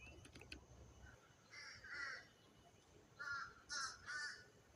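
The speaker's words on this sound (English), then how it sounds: "The crows are on the outskirts." Several crows caw from trees at the edge of a yard where someone is feeding wildlife, giving a few short bursts of calls at moderate distance over quiet outdoor background.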